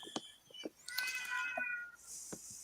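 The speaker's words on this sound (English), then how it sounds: "how creepy it is to hear a cat yowling in the background and then have it echo" A cat yowls and meows in the background, a drawn-out wavering cry with a few shorter calls around it, fairly faint and echoing, with no one talking.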